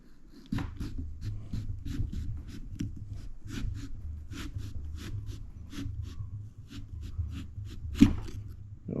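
Knife carving into a pumpkin, a run of short scraping and cutting strokes repeated close by in an uneven rhythm, with one sharper crack near the end.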